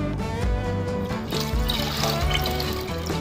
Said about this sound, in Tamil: அந்த லெமன் போட்டதை இதில் அலசி சுத்தமாக அலசி எடுக்கணும்.